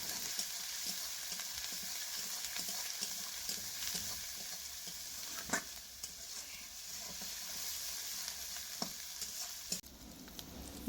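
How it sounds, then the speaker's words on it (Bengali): Spice masala for doi mach (Bengali fish in yogurt) with chilli powder and salt sautés in a pan, with a low, steady sizzle and soft periodic scrapes of stirring, quiet and close, and a louder clatter near the end. "এবারে মশলাটা খুব ভালো করে কষে নেব।"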